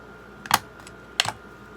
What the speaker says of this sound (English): Okay, ribbon scissors to the rescue.